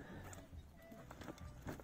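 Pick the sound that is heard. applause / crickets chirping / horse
horse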